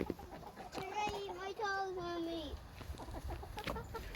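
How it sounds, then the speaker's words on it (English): A backyard hen clucks close to the mic in a run of rising, chattering calls, loud at first and then trailing off, with other soft farmyard rustles around it. "There's a Paisel chicken, because she's right up in my face."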